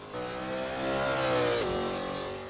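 A sim racing game car engine revs up steadily, its pitch rising through the gears before easing off. The game sound is heard alone and stays fairly close and clear.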